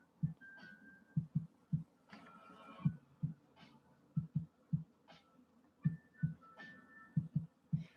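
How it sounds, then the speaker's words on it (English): A 1966 Husqvarna Viking 19E sewing machine stitches around an edge in slow gear, making soft, low thumps in uneven bursts with a faint whining tone and brief squeaks, quiet and close. "all we did is sew around the edge using the slow gear"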